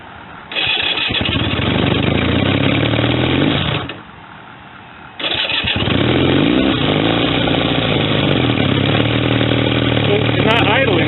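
A restored 1965 Honda CB160 motorcycle with poor mufflers cranks and fires up, runs rough and buzzy, drops out briefly, then restarts and keeps revving unevenly at close range.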